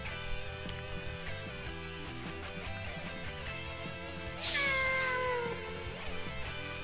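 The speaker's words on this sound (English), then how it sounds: "Cat heard me talking smack about him." A cat meows in the video game Nights of Azure, a drawn-out rising then falling cry standing out clearly over steady game music and effects.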